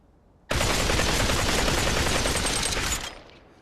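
Rapid automatic gunfire in the VR battle royale game Population One, a single loud sustained burst lasting about two and a half seconds before stopping abruptly, with no talking over it.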